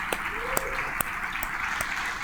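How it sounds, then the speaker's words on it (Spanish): Church congregation applauding, a dense patter of many hands with a few sharper claps standing out, steady and moderately close. "Le damos un gran aplauso al Señor."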